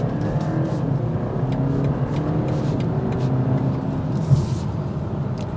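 A 2023 BMW 330e car accelerating during a test drive, heard from inside as a steady low drive hum and road rumble with faint whirring and a brief bump, no talking.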